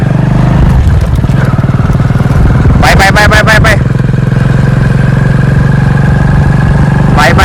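A motorcycle engine idles loudly and steadily throughout while a falcon is flown from it, a person briefly calling out over the rumble.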